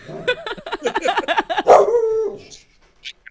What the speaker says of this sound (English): That's my crazy dog.